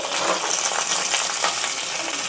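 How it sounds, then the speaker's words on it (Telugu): Onions and curry leaves fry in hot oil, a loud steady sizzle with crackling close by and no talking. "యాడ్ చేసుకుని ఫ్రై చేసుకోవాలి"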